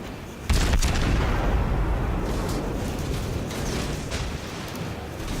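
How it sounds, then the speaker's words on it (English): Secondary guns on the cruiser Königsberg firing in World of Warships, a heavy boom followed by a rumbling roll of repeated shots and distant blasts, loud and continuous, with no talking. "how many guns are those things are firing? They got secondaries."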